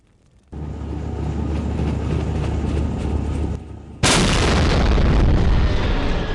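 Roaring fire and explosive booms fill a burning hospital in the video game Postal 2, a dense steady rumble that jumps louder and brighter partway through, with no talking.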